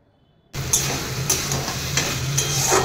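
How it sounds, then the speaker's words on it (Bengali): Rita fish head curry with eggplant bubbles in a pan after a sudden start, a steady close sizzle and simmer broken by a few light spoon clinks against the pan. "এবার সামান্য পরিমাণে জল দিয়ে দেবো। কিছুক্ষণ ফুটিয়ে নামিয়ে নেব।"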